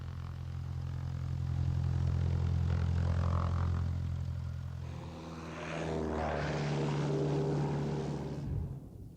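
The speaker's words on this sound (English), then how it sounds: "Cessna 241, fly runway heading, cleared for takeoff, runway 35." A Cessna airplane takes off from a runway, its propeller engine a loud steady drone with a low hum, rising in pitch as it gains power and then cutting off abruptly.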